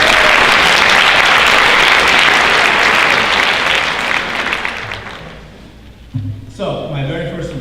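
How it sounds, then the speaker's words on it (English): An audience at a high school honors night gives graduates a loud, dense round of applause that swells and then fades out over several seconds, followed by a person starting to speak. "I'd like to go ahead and give you a round of applause for that."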